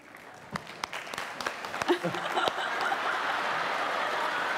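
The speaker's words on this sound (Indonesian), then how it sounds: "kita kasih tepuk tangan untuk yang ini" Studio audience on an Indonesian evening talk show applauds a surprise guest, the clapping building from scattered claps into steady, sustained applause filling the room, with some chuckles mixed in.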